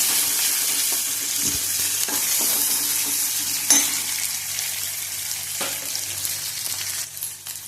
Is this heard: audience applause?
no